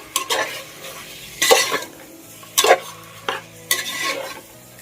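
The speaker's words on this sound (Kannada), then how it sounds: "ಚೆನ್ನಾಗಿ ಮಿಕ್ಸ್ ಮಾಡ್ಕೊಳ್ಳಿ" Chicken dry fry with ground coconut, wedding-style, stirred in a hot pan: several loud scraping sweeps of a spatula against metal over a soft continuous sizzle, close up with no talking.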